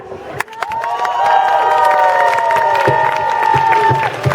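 A crowd cheers and shouts with scattered clapping for a folk music group, loud and lively throughout, with high-pitched voices whooping over the applause.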